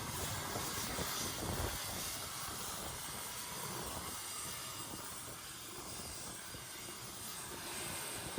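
An Ilyushin aircraft flies to Antarctica on its approach to the Novolazarevskaya blue ice runway, with a loud, steady engine and cabin drone running unbroken throughout and no voices.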